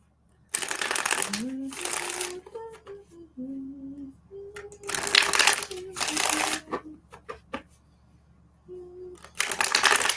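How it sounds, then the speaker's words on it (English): A deck of tarot cards is riffled and shuffled in several loud, crisp bursts separated by pauses, while someone talks in between. "every time I split the deck to shuffle your cards"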